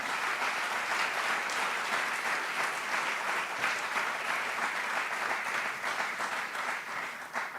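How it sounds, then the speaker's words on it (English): An audience claps steadily, a dense wash of applause that holds at a constant level throughout. "we can give them a round of applause again for that"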